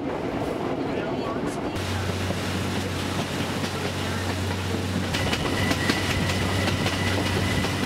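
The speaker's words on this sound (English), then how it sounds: "Later, we hopped the train to Aguas Calientes" Train running on rails to Aguas Calientes, Peru, a continuous rumble and clatter from inside the carriage with a steady low hum and wind noise, loud and close, with faint voices at times.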